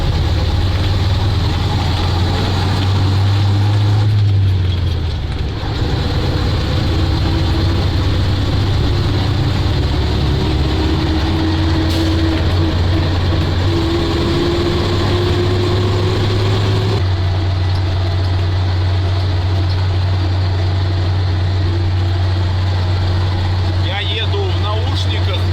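A KrAZ 255 truck's heavy engine runs loudly and continuously, a deep rumbling drone with a slowly rising tone, while people talk over it inside the cab.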